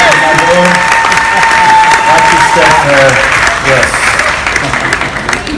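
An audience at a magic show on a 2015 cruise applauds and cheers for a young volunteer named Jackson, loud sustained clapping filling the room while a voice speaks briefly over it.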